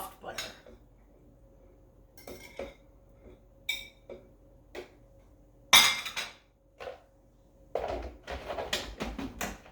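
Sugar, cinnamon, salt and soft butter are mixed in a bowl for a cheesecake crust, with scattered clinks and scrapes of a utensil against the dish and a few sharper knocks, separated by quiet gaps.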